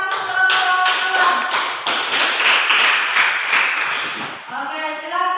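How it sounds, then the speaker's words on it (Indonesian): A classroom of students claps for group 2, a burst of close, sharp, fairly rhythmic hand claps that fades toward the end, with a voice speaking just before and after. "Tepuk tangan untuk kelompok 2."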